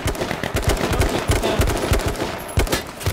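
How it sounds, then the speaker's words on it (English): Rapid bursts of gunfire in the battle royale video game H1Z1, a loud, dense run of automatic shots cracking in quick succession, with no talk over them. "There's still a guy up there shooting us."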